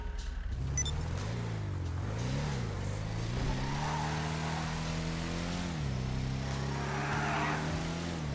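The Mammoth Patriot Mil-Spec, a Hummer H1 in GTA 5 Online, drives off with its engine droning loud and close, pitch rising and falling through gear changes and throttle shifts, without talk.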